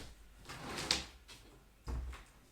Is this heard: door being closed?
yes